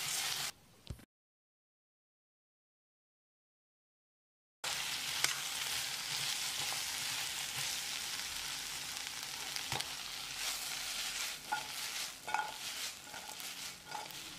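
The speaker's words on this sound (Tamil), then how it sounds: "இதை ஒரு 2 நிமிஷம் நல்லா பிரட்டி விடணும்." Idli 65 being tossed in a sizzling pan, a loud close crackle of frying with scattered scraping stir sounds and small utensil knocks, after a brief opening gap of near silence.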